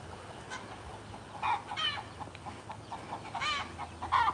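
Chickens cluck in short, scattered bursts over a steady low background hum, with a few louder squawks near the end.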